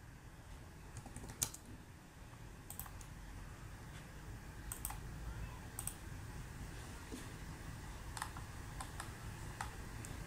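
Faint typing on a computer keyboard while searching for a WordPress plugin: sparse, light key clicks, some single and some in quick pairs, spread over a low steady background hum with no speech.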